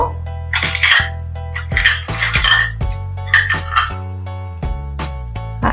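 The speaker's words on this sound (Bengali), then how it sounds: "তো আমি প্রথমে মিশ্রিটা দিয়ে দেব" Rock sugar lumps clatter into a metal pot of Govind Bhog rice for payesh, several sharp clinks and rattles close by, with a few ringing metallic knocks and no talking.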